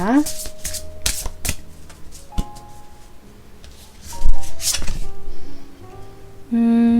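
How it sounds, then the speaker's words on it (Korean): Tarot cards being gathered and shuffled during a reading, with quick riffling bursts and soft slaps of cards that come and go while someone talks over them. "자, 그러면 조언 카드 모아보도록 하겠습니다."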